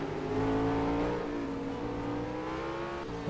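Racing cars at Donington Park during a GRC Trophy 2012 race, a continuous loud engine drone with rising and shifting whine as the cars drive on, no voices heard.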